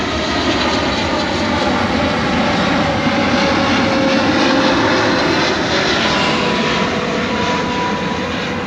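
An airplane flies near an airport beside rice fields in the morning, its engine a loud, steady, continuous roar that fills the whole stretch without breaks or voices.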